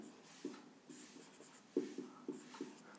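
Chalk or marker strokes on a board as a geometry proof is written out, a series of short scratchy taps in an irregular rhythm, close and fairly quiet.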